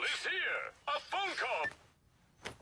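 A phone ringtone from an anime episode, a bright warbling electronic melody in two loud bursts with a short gap, then a brief faint tone as the ringing cuts off.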